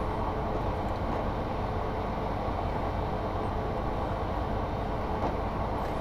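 Freight train from the game Train Simulator running steadily, a continuous loud rumble and rolling rail noise with no breaks, engine and wagon drone filling the whole stretch.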